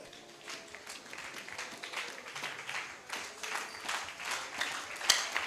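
A church congregation claps after the scripture reading, a steady wash of applause lasting throughout, fairly distant and moderate, with one sharper clap standing out near the end.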